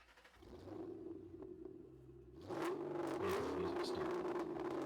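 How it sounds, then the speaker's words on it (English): A motorbike engine drones steadily, then grows louder and rougher as it revs partway through. "I can hear my motorbike."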